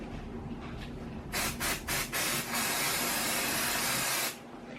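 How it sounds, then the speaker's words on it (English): A series of short bursts of aerosol spray adhesive hiss loudly, then one longer continuous spray onto a shirt, followed by quiet room noise. "I'm just gonna spray the whole thing"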